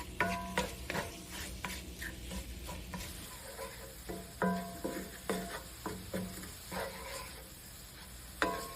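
Breakfast sausage browning in a pan, with repeated close scraping and tapping strokes of a utensil over a soft sizzle.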